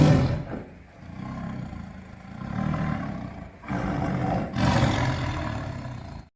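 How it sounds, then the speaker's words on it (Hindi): An angry lion roars repeatedly in a jungle, frightened by three strong wild buffaloes. The roars come as long, loud, rumbling bursts separated by brief pauses, with no speech over them. "अपने सामने तीन बलशाली जंगली भैंसे देखकर शेर डर गया और गुस्से में दहाड़ते हुए वहां से भाग गया।"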